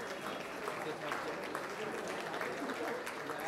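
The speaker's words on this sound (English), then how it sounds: "A huge round of applause for Mr." An audience at a celebrity peace event applauds Mr. Kulkripla as he comes on stage, a steady even wash of many hands clapping at moderate distance, fairly faint, with no break.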